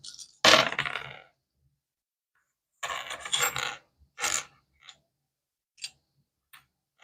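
Dried broad beans scooped and gathered up by hand for bean fortune telling, giving two dense rattling bursts followed by a few sparse single clicks and clatters, close and otherwise quiet.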